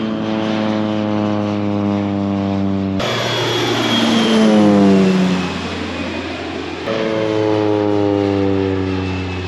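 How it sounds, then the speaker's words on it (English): Crop-dusting airplane flying low over a cotton field while spreading potash fertilizer. Its propeller engine drones steadily throughout, and the pitch swells and then drops as the plane makes a loud close pass overhead. "That's Gentry in the airplane. He's putting out fertilizer."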